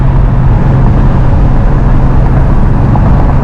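A 1969 Hurst Olds V8 cruises at about 4,400 RPM, a loud steady engine drone with road and wind roar heard from inside the car and no voices.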